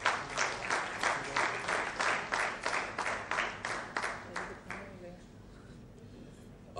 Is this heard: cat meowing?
no